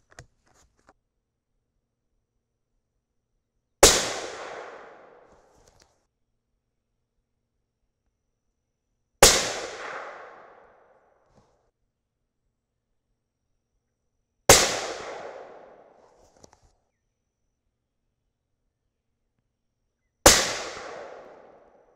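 Four loud, sharp shots from an inexpensive 6.5 Creedmoor rifle firing 142gr Sierra MatchKing handloads with H4350 or IMR4451 powder (41.9 grains), each crack trailing off in a rolling outdoor echo, spaced about five seconds apart with no talking.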